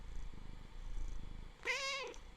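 A pet cat purrs with a soft, low rumble, then lets out a single clear, drawn-out meow near the microphone.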